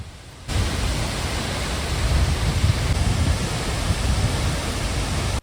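A waterfall in Meghalaya roars as a steady, loud, dense rush of falling water, unbroken for the whole stretch with no voices.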